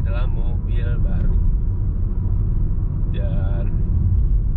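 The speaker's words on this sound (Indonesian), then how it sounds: "Itu masih kedengeran bunyi angin dan masih kedengeran bunyi bannya" Steady wind and tyre roar inside a new Honda Jazz GK5 city car on the move, a constant low broadband rumble with a person talking over it.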